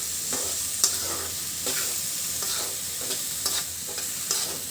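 Papaya mash frying with fried onion in mustard oil over medium-low heat, a steady soft sizzle broken by regular scraping strokes of a spoon stirring the pan.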